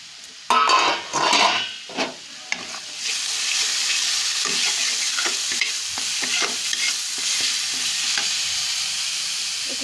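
Food frying in a pan over a low flame, with a few loud stirring scrapes at first, then a steady, close sizzle with scattered light clicks of the utensil against the pan.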